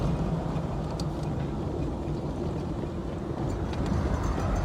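A 1959 Chevrolet Corvette engine hums in a steady low rumble while the car turns around, close and constant, with wind roar mixed in throughout.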